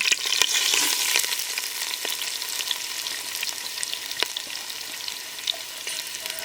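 Onions frying in a pan for village-style chicken biryani, a steady close crackling sizzle with scattered sharp pops and occasional stirring clicks, continuous throughout with no talking.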